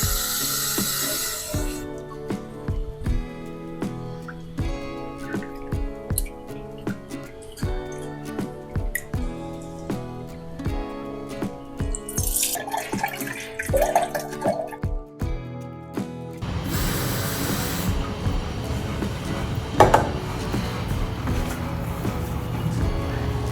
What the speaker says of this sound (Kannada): ಈಗ ಮೊದಲು ಬೇಳೆನ ತೊಳ್ಕೊಂಡು ಒಂದು ಸ್ವಲ್ಪ ಹೊತ್ತು ನೆನೆ ಹಾಕ್ತೀನಿ.